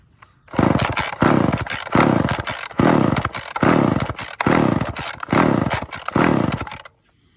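A 1974 Homelite XL chainsaw with a sticky recoil fires up and runs loud and close, its engine revving in repeated surges and drops for several seconds before cutting off.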